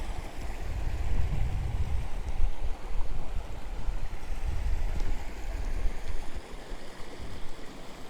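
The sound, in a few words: stream flowing through woodland, Wyre Forest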